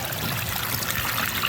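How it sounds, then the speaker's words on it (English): A small waterfall trickling over rocks in a mossy backyard pondless waterfall, a steady close splashing babble of water without a pause. "Got a little secret waterfall"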